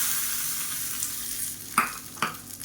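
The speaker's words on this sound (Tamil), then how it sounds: "இப்போ இதில் கடுகு வரமிளகா கருவேப்பிலை பெருங்காயம் போட்டு தாளித்து கொட்டிக்கலாம்" Mustard seeds, dried red chilli, curry leaves and asafoetida temper in hot oil for peanut chutney, a steady close sizzle with two sharp crackling bursts near the end.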